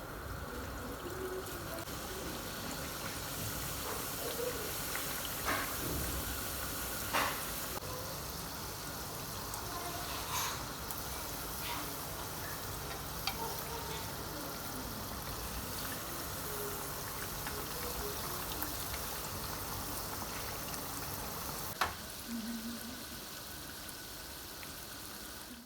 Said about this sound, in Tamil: இப்போ ரெடி பண்ணியிருக்கிற டோனட்ஸ் எல்லாம் ஃப்ரை பண்ணி எடுத்துக்கலாம்.